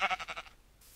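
A Minecraft sheep gives a short, clear bleat with a rapid wavering pulse, fading out within a second, with nothing else around it.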